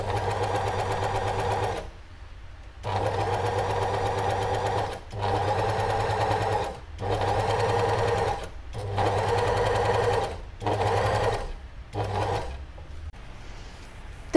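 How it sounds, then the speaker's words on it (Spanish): An overlock serger sewing machine stitches fabric in fast, loud whirring bursts, running for one to two seconds at a time with short quiet gaps between each run. "Ahora voy a coserlo con la remalladora porque estoy un poco apurada."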